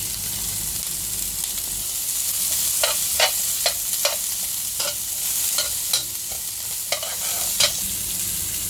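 Onion and garlic stir-fry in a pan for Filipino-style spaghetti, a close steady sizzle broken by repeated sharp spatula scrapes and taps at an uneven rhythm, with no talking.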